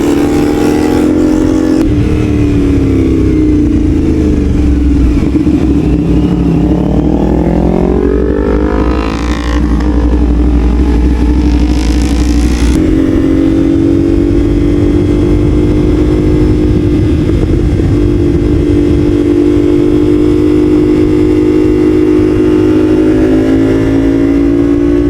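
A CFMOTO 450SR motorcycle rides in loops, its engine loud and close as it revs up and down through repeated throttle changes before holding a steady, droning cruise.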